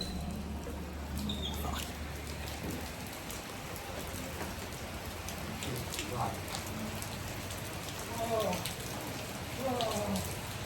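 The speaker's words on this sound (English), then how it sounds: "It was pelting down." Heavy rain pours down steadily on outdoor surfaces in Bali, a dense patter of drops that never lets up, with a few louder splashes near the end.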